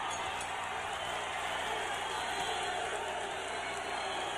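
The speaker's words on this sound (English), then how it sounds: "And the crowd loves it" Boxing arena crowd at a WBA flyweight title fight between Rosendo Alvarez and Pitchit Chor Sirwat, a steady dense roar of cheering and murmur filling the hall at the bell ending a round, with no clear talk on top.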